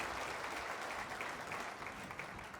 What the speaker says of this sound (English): So let's give Maynard a big round of applause.